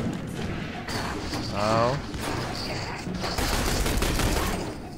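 Dense bursts of gunfire and combat explosions fill a battle in The Bureau: XCOM Declassified, loud and continuous, with a brief alien warbling effect in the middle and a voice reacting briefly.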